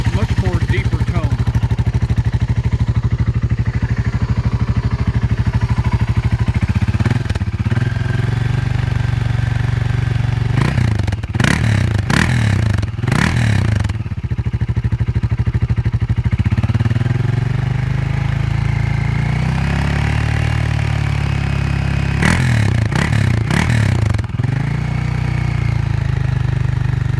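A modified BMW G650 Xcountry motorcycle engine idles with a deep, steady, low throb. Short bursts of sharp revving come around the middle and again near the end, and someone speaks at times over it.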